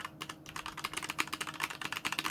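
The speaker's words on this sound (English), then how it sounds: "Not as loud as some other mechanical keyboards, of course, but definitely louder than the usual. You will definitely hear the clack." Rapid, continuous clacking from a fairly loud mechanical keyboard, keystrokes tumbling close together in an even, busy rhythm, heard up close with no voices.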